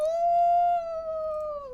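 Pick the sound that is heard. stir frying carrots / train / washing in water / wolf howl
wolf howl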